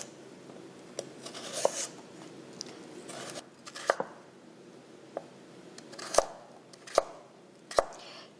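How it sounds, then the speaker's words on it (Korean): Knife chopping carrots and potatoes on a cutting board, a scatter of crisp, sharp cuts at an irregular pace, close and fairly quiet with a soft background hiss. "당근은 감자하고 비슷한 크기로 썰으시면 돼요"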